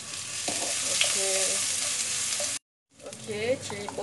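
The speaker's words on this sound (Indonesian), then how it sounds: "Kita masukkan bahan yang telah di blender tadi, kita tumiskan dia ya." A blended spice paste sizzles steadily as it sautés in a pan for curry fried macaroni, with stirring scrapes over continuous frying noise and a brief gap midway.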